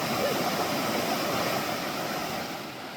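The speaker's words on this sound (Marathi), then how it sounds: "आपण चालतो आहे त्याच्या शेजारूनच हा असा ओढा वाहतो आहे." A stream flows beside a forest path, giving a steady, close rush of water that is moderately loud and continuous with no voices.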